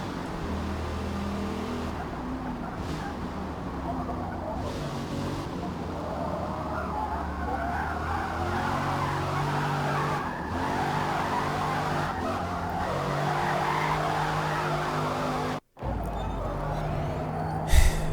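A car slides sideways in Forza Motorsport, its tires squealing and skidding continuously over a droning, revving engine for a long stretch, with a brief dropout near the end.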